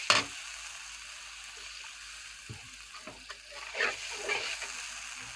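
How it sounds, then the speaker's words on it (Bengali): Fried onions in a pan take water and spices, giving a soft, close sizzle and bubbling with a few sharp splashy bursts and stirring scrapes, fairly quiet and free of talk. "এখন পানি দিয়ে মশলা দিয়ে দেব।"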